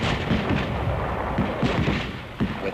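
Bursts of WW2 combat gunfire from rifles, BAR automatic rifles and mortars, a dense run of booming and cracking shots crowding together, loud and close, with heavier thumps near the middle and end.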